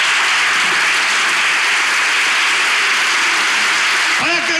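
A studio audience gives a loud, continuous wash of applause to close a televised relationship quiz show, and a voice briefly cuts in right at the end.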